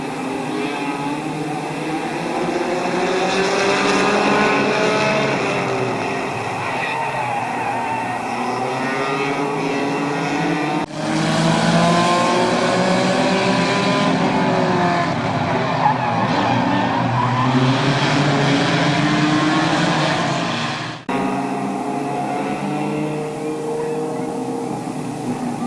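Race cars thunder around the oval at Barberton Raceway Park in a loud, continuous roar of engines, with pitch swells and dips as the pack passes close, and a sharper, brighter surge in the middle stretch.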